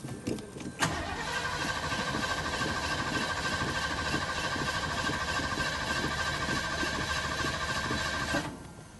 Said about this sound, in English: Alright, so we have the entire carburetor put back together. So now we're going to see if it'll start.